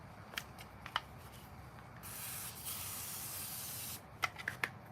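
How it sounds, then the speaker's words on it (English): A WD-40 aerosol can hisses in one steady two-second spray onto a go-kart, framed by sharp ratcheting clicks of a mechanism turning before and after. "we're gonna spray the whole thing in WD-40"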